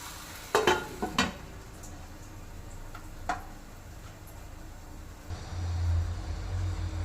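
Tomatoes cooking in a covered pan for chicken kabsa give a low, steady sizzle. A few clinks of a utensil come early on, and a low hum rises near the end.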